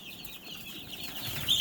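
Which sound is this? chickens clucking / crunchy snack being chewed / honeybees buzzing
chickens clucking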